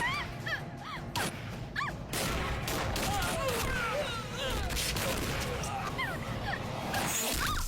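Gunfire erupts during the pre-climax of the Telugu action film Rebel starring Prabhas: sharp bursts and crashes punch through a dense, loud mix of dramatic score and shouting voices.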